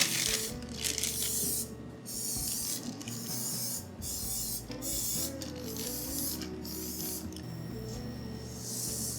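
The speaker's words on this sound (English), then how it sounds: "I'm gonna slightly spray the inside of the mold in order to release more easily our pancake." Short hissing bursts of cooking spray coat the inside of a pancake mold for a banana pancake dessert, several spurts in a row close to the microphone, with no talking.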